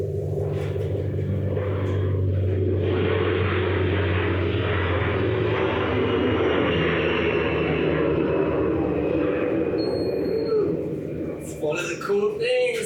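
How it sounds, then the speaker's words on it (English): A steady, heavy rotor and engine rumble drones throughout as a helicopter passes nearby on the coast, loud and continuous, with a voice speaking briefly near the end. "Got a helicopter flying by."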